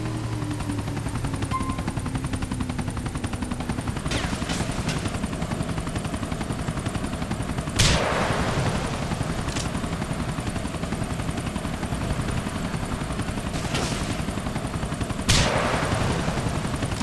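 A helicopter in the video game GTA IV thrums steadily with continuous rotor drone, punctuated by a few sharp gunshot-like cracks near the middle and end, with no speech.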